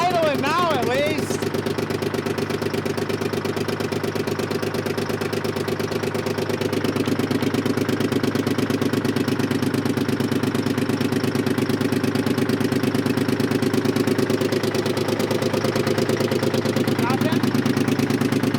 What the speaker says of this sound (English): She's idling now, at least.